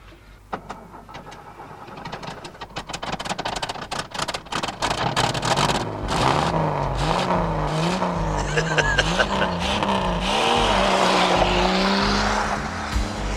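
A utility vehicle speeds away from the zoo grounds, its engine building to a loud, sustained roar with rising revs and squealing tyres, close and continuous over several seconds after a burst of clattering noise.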